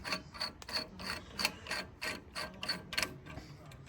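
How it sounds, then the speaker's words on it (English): Aluminum handle being threaded on and off a stainless steel French fry cutter, giving a steady run of close ratcheting, scraping clicks in quick rhythmic bursts. "It's aluminum, but it screws on and off."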